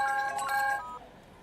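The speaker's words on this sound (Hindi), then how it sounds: "बबलू शेट्टी का फोन है" A mobile phone ringtone plays a bright repeating electronic melody for under a second, then cuts off and leaves faint room tone.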